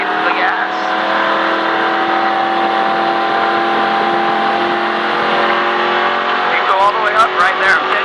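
A NASCAR race car engine drones loudly and continuously from inside the car, holding a steady high pitch and rising slightly near the end, with a voice speaking over it.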